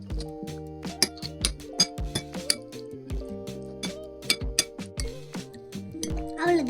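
A spoon clinks and scrapes rhythmically against a bowl as a bread filling paste is mixed, with ringing taps at close range over a tonal background.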